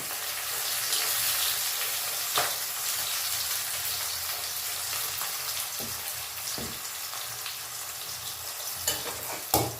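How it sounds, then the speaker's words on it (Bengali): Paneer cubes and onion frying golden in a pan make a continuous close sizzle, broken by a few sharp stirring clacks and scrapes, with no voices. "এটা একটু গোল্ডেন করে ভেজে নিতে হবে"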